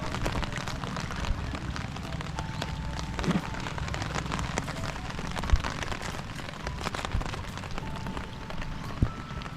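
Steady rain falls across a campsite under repair, a dense even wash of drops with a few louder splashes on nearby surfaces throughout.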